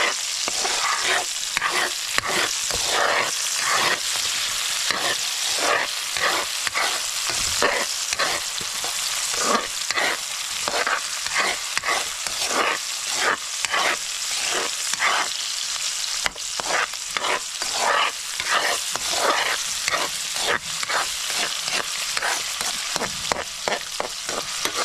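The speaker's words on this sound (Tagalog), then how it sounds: "Dito ko lang siya lulutuin sa aking kawali ba maliit." Mud crab cooks in a small frying pan, a steady close sizzle broken by a long run of quick, evenly repeated scraping strokes as it is turned and stirred, with no voices.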